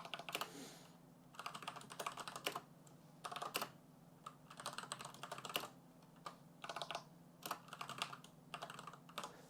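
Quick bursts of typing on a computer keyboard while JavaScript code is entered, with soft, close clicking keystrokes in irregular runs separated by short pauses and no talking.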